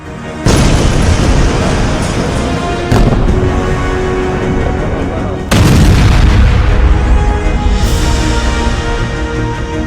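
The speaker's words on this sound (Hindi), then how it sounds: "जबरदस्त धमाके के बाद बारूद और धूल का गुबार 200 फीट तक पहुंच गया" Heavy, sustained roaring blasts from an Israeli army strike in Beirut, with three sharp onsets each followed by a dense rumbling wash.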